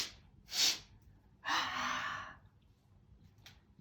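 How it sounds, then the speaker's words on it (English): A person breathing out during a yoga breathing exercise, a short sharp exhale through the nose followed by a longer, steady outward breath, close and quiet in an otherwise still room. "So you breathe out."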